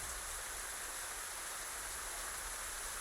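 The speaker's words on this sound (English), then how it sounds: "And rain effects and all that sort of good stuff." Steady rain in the DCS World flight simulator on the Kola map at early morning, a constant hiss of falling drops with no breaks, faint and even throughout, with no voices.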